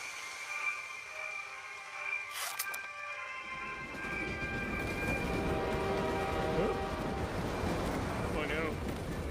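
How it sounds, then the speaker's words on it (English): A train rumbles past with a growing low roar and a sustained horn-like tone, starting quiet then swelling into steady mechanical noise. "That's the train. Isn't that the most beautiful sound you ever heard?"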